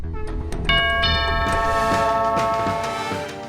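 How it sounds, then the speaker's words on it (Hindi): A doorbell rings with several bright, layered chime tones that start in quick succession and hang in a sustained ringing that slowly decays, loud and close with no talk over it. "तुम्हें डोरबेल की आवाज नहीं सुनाई दे रही?"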